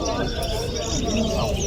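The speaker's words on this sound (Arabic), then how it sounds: "طائر الحسون اخوتي." A European goldfinch sings at a bird market, rapid twittering notes heard close by and mixed with voices talking over the bird.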